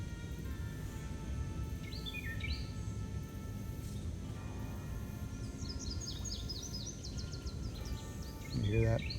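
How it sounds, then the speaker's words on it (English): Several birds chirp and trill in short bursts, faint and distant, over a steady low background rumble at Mason Neck State Park in July. "You can hear some of these birds talking."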